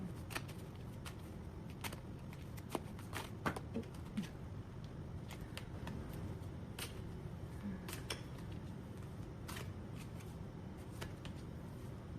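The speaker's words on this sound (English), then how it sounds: "I'm going to shuffle some clarification cards for you" Tarot cards are shuffled quietly and repeatedly, with soft riffling snaps and light taps scattered over a faint background hum.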